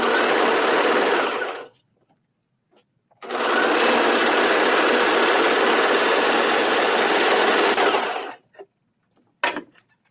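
A sewing machine stitches binding onto a knit tank top, running loud in a steady burst of about two seconds, then a longer run of about five seconds, followed by a brief final spurt. No one speaks.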